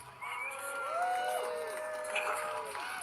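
A crowd at a migrant protest rally in Crowborough, England, applauds with whoops and whistling shouts rising over it, steady and fairly close for a few seconds.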